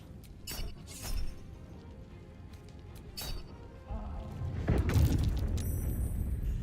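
Explosion in the video game Baldur's Gate 3, a series of booming game effects with sharp bursts and a heavy rumbling crash near the end, no talk over it.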